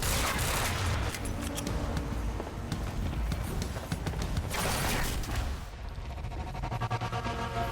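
Burst-pistol gunfire in Quantum Break, with repeated rapid clusters of shots over a busy, rumbling combat background and a brief lull near the end.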